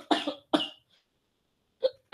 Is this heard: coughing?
yes